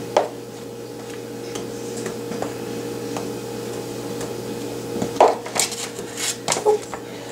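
A spoon scrapes and knocks through stiff snickerdoodle dough in a bowl, with soft, irregular taps and clinks. They get louder and more frequent toward the end, alone with no talk.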